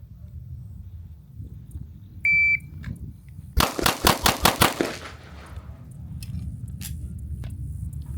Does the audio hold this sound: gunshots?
yes